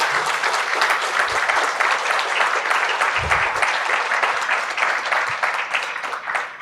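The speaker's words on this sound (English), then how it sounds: "We should give them a big round of applause." Audience applause for a panel at a vision health conference, a full sustained round of clapping from many hands at close range.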